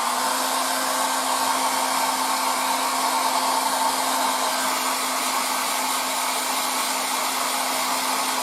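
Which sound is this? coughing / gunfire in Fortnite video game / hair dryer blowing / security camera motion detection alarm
hair dryer blowing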